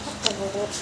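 Chickens clucking softly in short bursts, with a faint bird chirp and quiet background noise around them.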